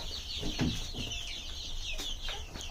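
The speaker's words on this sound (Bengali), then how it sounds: "এই যে আমার এই মুরগিগুলো" Several free-range desi chickens cluck softly nearby, a low murmuring flock of hens and chicks with occasional louder clucks over a steady background hum.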